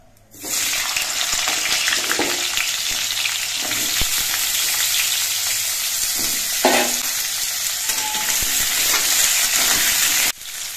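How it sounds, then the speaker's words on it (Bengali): Pumpkin pieces frying in a pan, village-style cooking, give a loud continuous sizzle with stirring scrapes and clicks scattered through, cut off abruptly near the end. "এবার মিষ্টি কুমড়োগুলো আমি ভেজে নেব।"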